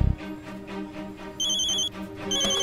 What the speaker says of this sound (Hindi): हेडक्वार्टर से फोन